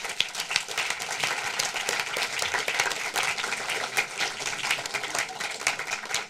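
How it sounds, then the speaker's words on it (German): An audience at a cinema screening event gives a steady round of applause, dense overlapping clapping that holds at an even level throughout. "vielleicht schon mal ein kleiner Applaus"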